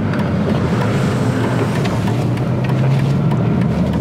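A BMW E46 M3 CSL engine gives a loud, steady roar with brief rev-matching throttle blips between gear changes, heard close with rushing wind and road noise.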